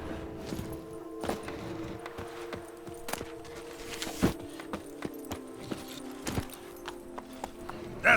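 Hooves of Roach, Geralt's horse in The Witcher 3: Wild Hunt, clopping at a walking pace in a steady, uneven rhythm of close, crisp hoof strikes over a faint ambient hum.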